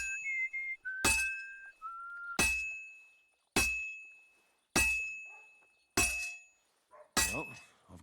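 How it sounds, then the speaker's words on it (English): Heated metal being hammered at a forge in Kingdom Come Deliverance 2: six loud, ringing clangs about a second apart, with a whistled tune between the first strikes. "Now let's get to hammering."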